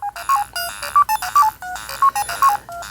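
Electronic start-up jingle from a Pac-Man game on a Pac-Man Pocket Player handheld, a quick bright run of beeping tones in a bouncy rhythm, clear and alone for about three seconds.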